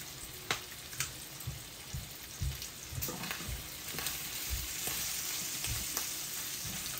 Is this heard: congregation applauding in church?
no